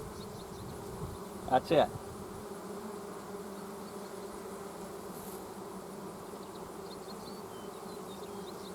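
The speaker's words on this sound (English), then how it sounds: "And you can see the bees building back up out front." Honey bees buzz steadily at the entrance of a backyard hive, a continuous droning hum throughout, with a brief voice and a couple of short handling noises early on.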